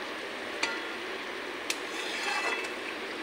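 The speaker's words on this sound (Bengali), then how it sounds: "এখন গরম মশলাটা ওটার সঙ্গে মিষ্টিটার সঙ্গে মিশিয়ে নেব।" A spoon works garam masala into a soybean and egg fritter mixture with potato, giving a soft, quiet scraping with two light clinks against the bowl; no one speaks.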